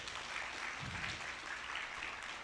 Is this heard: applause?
yes